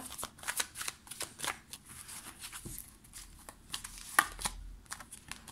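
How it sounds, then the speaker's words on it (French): Tarot cards shuffled and drawn by hand, a quick run of crisp riffling snaps and soft slides, close and fairly quiet, with a sharper flick near the end and no talking. "Hop, on va prendre 3 cartes."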